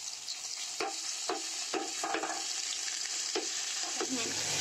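Finely chopped chicken frying in a pan, a constant bright sizzle overlaid by a regular series of spatula scrapes and taps as the pieces are stirred, close and alone.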